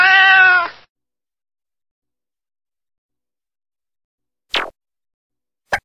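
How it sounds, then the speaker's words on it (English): A single clear cat meow sounds up close at the start, followed by long silence and two very brief sliding sounds near the end. "The cat. El gato."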